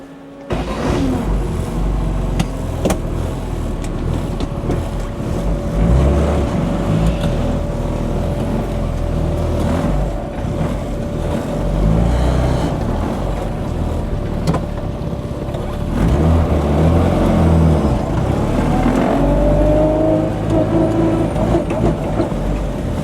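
A tuned Mini, fresh off the dyno, drives along with a steady engine drone and road rumble inside the cabin, the tone rising and falling gently with speed.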